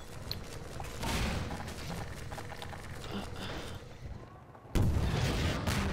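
Rocket launcher firing in the game Half-Life 2: heavy, booming blasts and rumbling impacts over continuous combat noise, with a sudden loud burst near the end.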